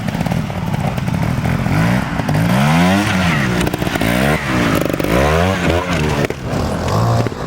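A trials motorcycle ridden over a hard course in an inter-centre team trial, its engine revving and bogging in loud, uneven bursts close by, with a voice talking over it.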